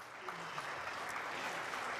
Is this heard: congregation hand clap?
yes